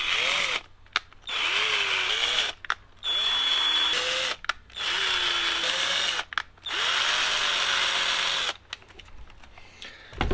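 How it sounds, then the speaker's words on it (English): A power drill whirs in several short bursts enlarging small holes in rubber on an ARRMA Vorteks RC car, its pitch rising and dipping as it bites, separated by brief pauses of near silence. "I'm going to drill out these little holes to just be a little bit bigger"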